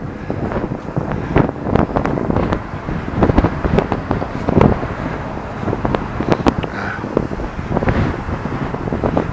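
Strong wind buffets the microphone outdoors in rough, uneven gusts with a steady rumbling roar and no voices.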